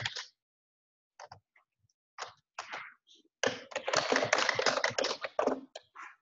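Typing on a computer keyboard while adding text in a photo editor, close taps in short bursts and then a dense, steady run of keystrokes with brief pauses.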